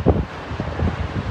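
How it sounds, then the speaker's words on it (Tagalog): Wind blowing outdoors in Dubai, buffeting a camera microphone in low rumbling gusts, loud and steady for a brief moment with no talk. "ang hangin dito sa Dubai"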